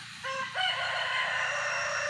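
A rooster crows clearly and fairly close on a small chicken farm, a long sustained call over a low steady hum from a running generator.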